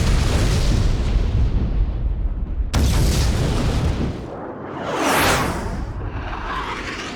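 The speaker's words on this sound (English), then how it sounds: "The fortress has really been destroyed!" The Fenrir fortress explodes in an Ace Combat X: Skies of Deception cutscene: a long, roaring blast with a sudden sharp crack partway through, then a rising whoosh as the rumble swells and fades, loud and with no voices.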